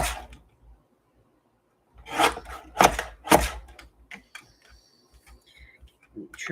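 Scissors trimming 110-pound cardstock, a few crisp cutting and rubbing sounds in a short cluster near the middle, close and fairly quiet, with small handling noises around them.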